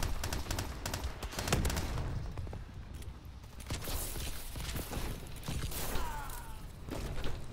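Rapid bursts of gunfire and weapon handling clatter fill a Call of Duty: Advanced Warfare online gun game match, loud and continuous with sharp transients throughout.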